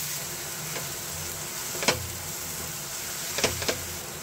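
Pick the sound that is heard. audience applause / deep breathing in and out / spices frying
spices frying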